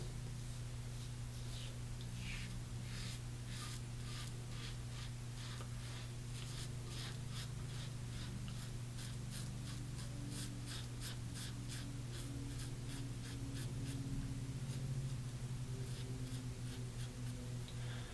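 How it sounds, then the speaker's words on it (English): A 3ONE6 safety razor shaves stubble at the sideburn, giving close, rapid, repeated scratchy strokes over a steady low hum, with no talking. "Now the left side, just cutting the sideburn."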